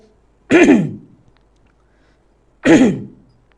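Two short, sharp throat-clearing coughs, about two seconds apart, close and loud against an otherwise quiet background.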